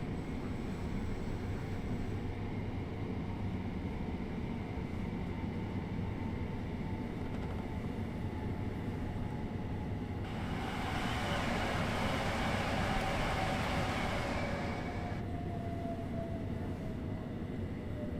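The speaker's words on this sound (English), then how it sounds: "So we are an 8-car train, we are looking for the 8-car mark." An 8-car commuter train on the Brighton main line slows to a stop, with a steady low rumble and a brief hiss or squeal partway through, close and continuous with no talk.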